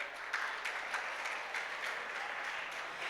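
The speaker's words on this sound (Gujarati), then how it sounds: "તાળીઓ પાડો કંઈક." An audience at a school event claps in a faint, steady patter of applause that continues throughout without a break.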